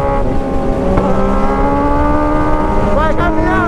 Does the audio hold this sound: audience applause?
no